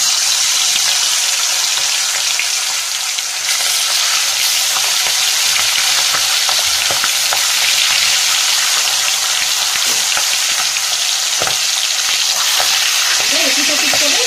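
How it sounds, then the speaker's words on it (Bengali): Fish head rubbed with salt and turmeric fries in mustard oil in a wok, giving a loud, dense, steady sizzle with scattered crackles and spits throughout. "কড়াইয়ের মধ্যে 4 চামচ সর্ষের তেল দিয়েছি, আর মুড়োটার মধ্যে নুন হলুদ মাখিয়ে নিয়েছি। এবার এটা ভেজে নেব।"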